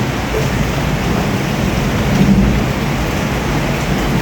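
Heavy rain pours with strong wind, a loud dense continuous roar and hiss of downpour with a slight swell in the middle, no voices.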